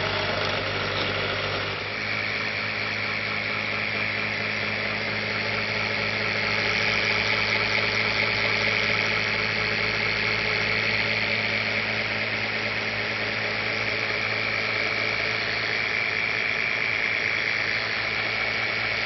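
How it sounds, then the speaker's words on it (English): A homemade CartMotor 4.0 coil motor with four coils spaced half an inch apart, drawing about 4.2 amps at 13 volts, runs with a loud, steady buzzing hum and faint rhythmic pulsing that continues unbroken throughout. "I got four coils running, and they're working just fine at a half an inch apart"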